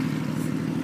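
A 2016 BMW R1200RS touring motorcycle's boxer engine on the move, a steady low droning hum with wind rush, held evenly for a brief moment.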